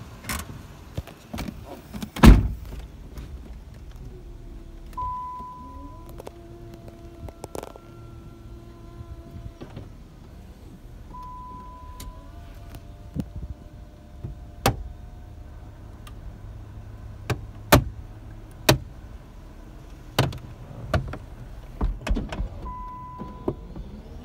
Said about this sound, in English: Top does go up and down.